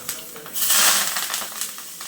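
Curry leaves dropped into hot tempering oil give a sudden close burst of crackling sizzle that peaks briefly, then fades into a lighter, spitting hiss.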